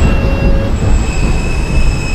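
An N local subway train rolls along the track at night, with a loud, continuous rumble. Sustained high metallic wheel squeals ring over it, and no one speaks.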